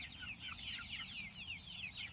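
Freedom Ranger meat chickens cluck and chirp continuously in a pasture cage, a soft busy chorus of many birds close by with low background rumble and no talking.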